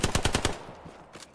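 A burst of automatic gunfire in a shooter video game, five or six rapid loud shots in quick rhythm, followed by a fainter lone shot a moment later.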